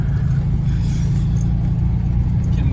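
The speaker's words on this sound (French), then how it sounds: "Quel moteur incroyable." A Puma 1600 GTE, a Brazilian sports car with a 1600 engine, drones along while driving, a steady, loud, low rumble with no voices.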